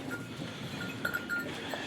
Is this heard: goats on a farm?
yes